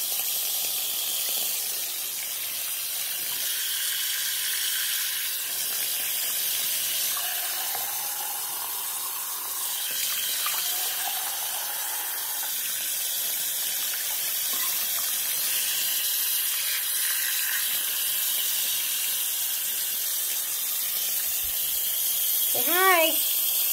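Steady running water fills a tub for Cairo the dog's bath, a constant hiss that goes on throughout, with a voice talking over it now and then.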